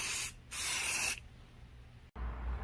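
Paint sprayer laying down a coat of paint, two strong hissing bursts of spray separated by a short pause, followed by quieter background noise and a low rumble at the end; no talking.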